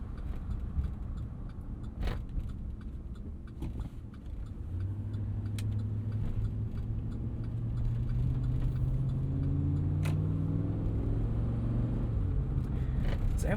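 A 2013 Chevrolet Avalanche 5.3L V8 truck drives along, its steady low engine and road rumble continuous throughout, rising slightly in level partway as the engine note climbs and holds, with no talking.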